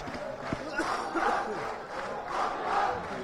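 Students in the Kazi Nazrul Islam university auditorium celebrate a student union election victory with loud crowd cheering and chanting that swells in rhythmic waves.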